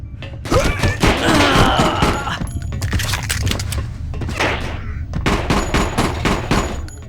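Rapid gunfire from the video game Hellforces, dense bursts of shots with metallic impacts, loud and continuous with brief gaps, no talking.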